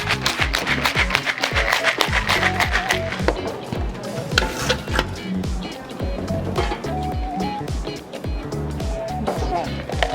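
A cocktail shaker full of ice is shaken at a barista championship, producing a quick series of loud rhythmic rattling thwacks. Someone talks over the shaking.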